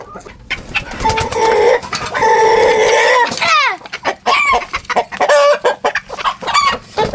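Chickens clucking and squawking up close, a busy run of overlapping calls with a rising, swooping squawk partway through; no talking.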